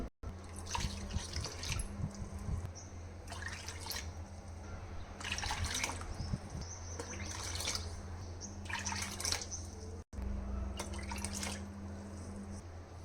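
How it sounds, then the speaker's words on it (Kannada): Water pours and splashes into a bowl of rava dosa batter in several separate bursts, close and fairly soft, with brief pauses between pours. "ಈ ಬಟ್ಲಲ್ಲೇ ನಾನು 7 ಬಟ್ಲಷ್ಟು ನೀರು ಹಾಕ್ತೀನಿ."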